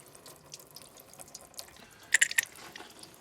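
Video game character urinating, a brief cluster of light liquid splashes and drips heard faintly up close over quiet background noise.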